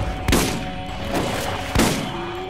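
Two loud shotgun blasts go off in Borderlands about a second and a half apart, each a sharp, close crack with a brief ringing tail over steady game ambience.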